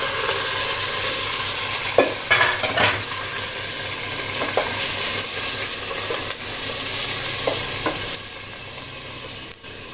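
Meat frying in a pot for haleem, a loud continuous sizzle with occasional scrapes and clinks of a spoon stirring against the metal, no voices.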